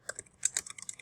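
Rapid, light keystrokes on a computer keyboard, a quick uneven burst of close, faint clicks.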